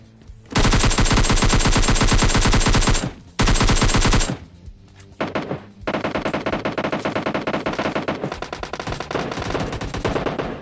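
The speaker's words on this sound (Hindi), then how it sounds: "अब आप लोगों ने सुना ना क्या ही कमाल की गन शॉट्स की आवाज आ रही है" Loud bursts of rapid automatic gunfire in the video game PUBG Lite, a sustained volley that pauses briefly, then resumes in a long rattling string of shots.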